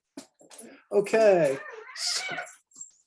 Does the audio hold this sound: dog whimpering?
yes